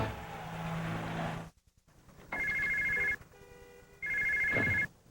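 A cell phone rings unanswered, repeated electronic ring bursts separated by short gaps, moderately loud over a low background hum with no talking.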